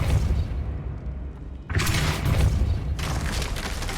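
A hanging object knocked down by the Depulso spell in Hogwarts Legacy, a heavy crashing boom with clattering debris after a brief quiet moment, followed by a second burst of rumbling noise.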